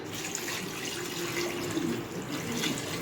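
Water pours steadily into a pot of mutton seasoned with turmeric, a continuous splashing stream that runs alone for a few seconds.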